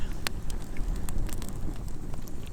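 A campfire burns charcoal and heat beads outdoors on an overcast day, giving a steady soft roar of flame with scattered sharp crackles and pops.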